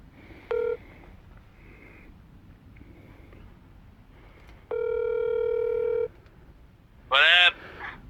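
A phone call is placed: short dialing beeps and a longer steady tone sound clearly, then a brief bright ring bursts out near the end, with no one talking.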